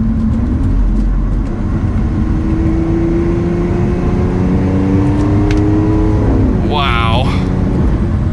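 Lamborghini Aventador LP700-4 V12 pulling hard under acceleration, its loud engine tone climbing with gear changes from the paddle shifters, heard from the cabin with a brief exclamation near the end.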